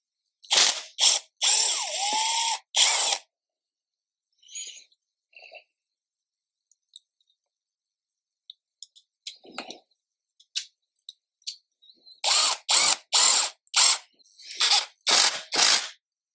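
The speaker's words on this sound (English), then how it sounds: "just pull out that screw and drop it right in there" Work on a Stihl HL75 flex head trimmer, with bursts of close ratcheting clicks at the start and end, separated by a quiet stretch of small scattered taps and metallic ticks as a screw is pulled out.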